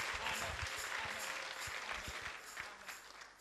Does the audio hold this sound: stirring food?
no